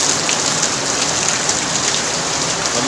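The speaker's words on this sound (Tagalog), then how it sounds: "Ang lakas ng ulan." Heavy rain pouring down hard, a dense, loud, unbroken hiss of drops striking surfaces nearby, steady for the whole stretch with no voices.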